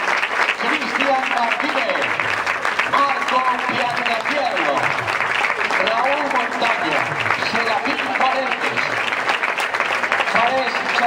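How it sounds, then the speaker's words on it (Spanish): Steady applause from a crowd at a youth football club's season presentation, welcoming the pre-Benjamín squad, continuous and dense throughout while a voice announces names over it. "Fuerte aplauso, fort aplaudiment pel pre-Benjamín"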